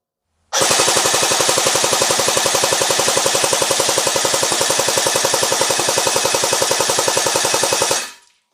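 A Cybergun Kalashnikov AK47 electric airsoft rifle with a tactical folding stock fires one long full-auto burst of about seven seconds, a rapid, even stream of sharp clicking shots recorded close up that stops abruptly.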